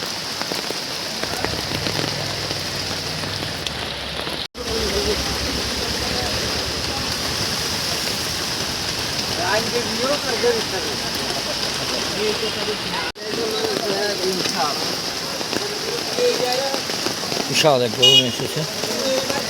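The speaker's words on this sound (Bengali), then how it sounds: "বৃষ্টি হচ্ছে প্রবল বৃষ্টি, আমরা দেখতে পাচ্ছি প্রবল বৃষ্টি" Heavy rain pours steadily over an outdoor cattle market at the Circuit House field in Mymensingh during the Eid sacrificial-animal fair, a continuous dense hiss throughout while someone talks over it.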